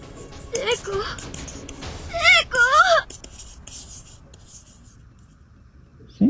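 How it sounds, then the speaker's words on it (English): A pencil scratches steadily across paper in the Corpse Party Blood Drive video game, close and dry, with a hushed voice speaking over parts of it. "just the scratching of pencil and paper"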